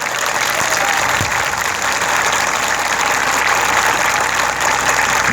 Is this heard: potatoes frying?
no